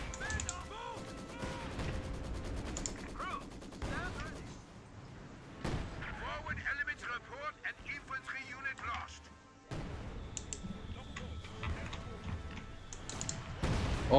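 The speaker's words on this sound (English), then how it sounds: "I'm gonna start mortaring their units now." Mortar fire in the Company of Heroes 2 battle game, repeated sharp booms and crashes scattered through busy combat noise, with someone talking over much of it.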